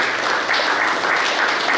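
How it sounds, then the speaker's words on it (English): An audience at a Capuchin music competition event in Goa gives a brief burst of clapping, loud and continuous across the whole moment. "Let's give a clap."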